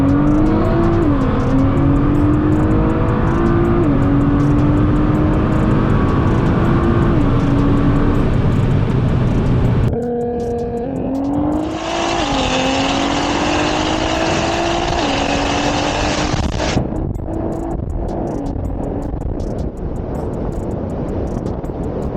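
Cammed Chevrolet Corvette C7 Z06 V8 at a drag race, loud and close, its choppy lumpy idle rising and falling through repeated revs, with a sustained higher whine in the middle and no voices.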